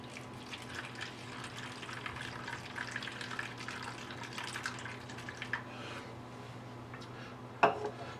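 Water poured into a roasting pan holding a butterflied turkey for oven roasting, a steady low splashing trickle that runs throughout, with a brief louder clatter near the end.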